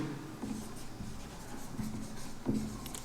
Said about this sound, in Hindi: ऐसा मैंने लिखा।